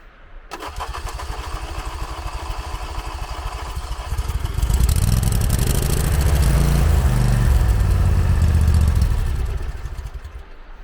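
A John Deere mower engine cranks in -20°C freezing cold, whirring steadily for several seconds. It then catches and runs loud and close with a rough, rising drone before easing off near the end.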